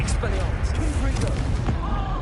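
Explosive blast spell cast in the Hogwarts video game, a dense booming burst of game effects with crackling pops layered under ongoing talk and voice chatter.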